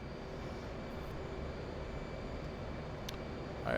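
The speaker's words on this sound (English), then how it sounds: "Put on a little bit of afterburner here." An F/A-18C jet engine in the DCS combat flight simulator drones as a steady, low, muffled roar, continuous and fairly quiet, with no speech.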